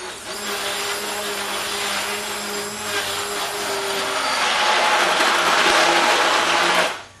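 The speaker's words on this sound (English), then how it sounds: "So we're just going to take a hand blender." A hand blender whirs steadily for about seven seconds blending protein pumpkin pudding, a loud motor drone that intensifies slightly near the end before cutting off.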